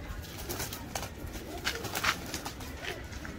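Pigeons coo softly in a low, repeated rhythm, fairly faint and near, with a few sharper bird sounds and a rustle of wing movement.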